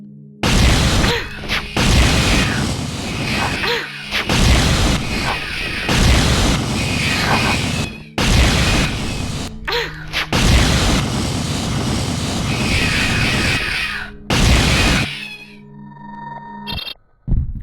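A plasma cannon firing in Alone in the Dark: The New Nightmare lets out a series of heavy, booming energy blasts, each sustained roar lasting a second or more in close succession before fading into quiet.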